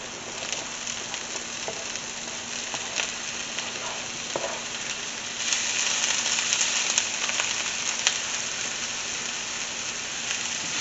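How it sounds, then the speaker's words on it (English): Sliced Vienna sausage frying in a pan gives a steady, close sizzle with faint crackles, swelling louder about halfway through, with no voices. "the time has come to add the sliced Vienna sausage"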